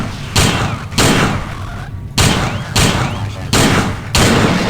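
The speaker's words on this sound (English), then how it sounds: "We're gonna have to kill that with some AP rounds." Armor-piercing rounds fired at a robot in the video game System Shock 2 land as six heavy, evenly spaced booming shots, each loud and close with a short decaying tail.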